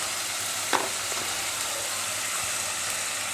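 Spice paste with salt and turmeric fries in a pan, giving a steady, close hiss of hot oil with one brief utensil scrape near the start and no talking.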